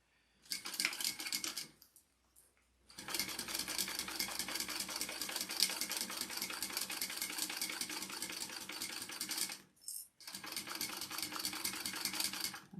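A home sewing machine runs a quarter-inch seam, sewing through tape, in close, steady rapid bursts of stitching. Two brief pauses break the run, and no one speaks.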